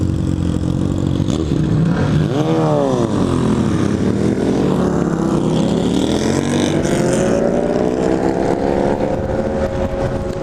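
Several motorcycles ride past a rider on a Super 73 electric bike, their engines rising and falling in pitch as they sweep by close and loud, with continuous road and wind noise.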